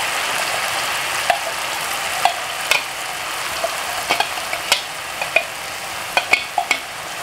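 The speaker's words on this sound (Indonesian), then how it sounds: "Kita tumis bumbunya sampai mateng" Spice paste sautés in hot oil with a continuous hiss of frying, punctuated by many small, distinct clicks and taps of a spatula against the pan.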